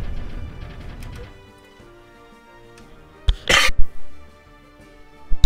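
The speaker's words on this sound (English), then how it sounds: "I had a cough." A person coughs in a short, loud burst of several coughs over steady video game music and effects, with a final sharp sound at the very end.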